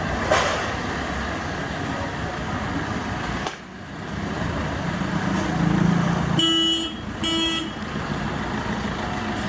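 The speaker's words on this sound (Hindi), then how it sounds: "ये देखो मेरी गाड़ी पीछे हो रही है, पंडित जी कर रहे हैं पीछे।" A Tata Manza car reverses inside a busy garage, its engine a steady rumble under workshop noise, with two short horn-like beeps near the end.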